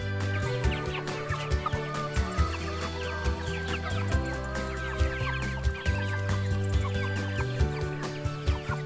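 Chickens cluck steadily and close by in a village yard, the calls overlapping in a busy, repeated rhythm over a constant low background, with no talking.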